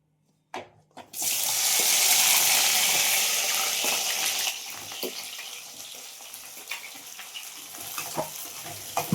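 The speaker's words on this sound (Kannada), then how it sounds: "ಇವಾಗ ಒಂದು ಬಾಣಲಿಗೆ ಎಣ್ಣೆ ಹಾಕೊಂಡು ಕಟ್ ಮಾಡಿ ಇಟ್ಕೊಂಡಿರೋ ಎಲ್ಲ ಬೆಂಡೆಕಾಯಿನ ಹುರ್ಕೊಳ್ಳಿ" Cut okra dropped into hot oil in a pan bursts into a loud, hissing sizzle that peaks, then settles into a steady crackle with occasional stirring clicks, close and with no talk.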